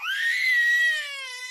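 A child's high, piercing scream, rising sharply then sustained and trailing off over about a second and a half, loud and close with no other sound around it.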